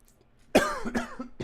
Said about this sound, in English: I was trying not to cough, but it still snuck up on me